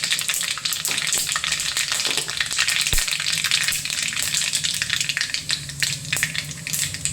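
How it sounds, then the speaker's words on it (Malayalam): Mustard seeds spluttering in hot coconut oil in a pan, a loud continuous crackle with sharp pops scattered through it, close up and with no talk. "കടുക് പൊട്ടട്ടെ."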